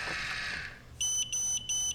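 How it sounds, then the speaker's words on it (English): An AGO programmable film processor timer for Paterson tanks beeps three times in quick succession, high-pitched electronic tones, loud and close, following a brief wash of background noise. "So there's a beep telling you that 10 seconds is approaching. I think it beeps again."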